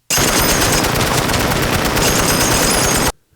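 An M60 machine gun firing from an improvised turret, one continuous, very loud burst of rapid automatic fire lasting about three seconds, then stopping abruptly with a brief echoing tail.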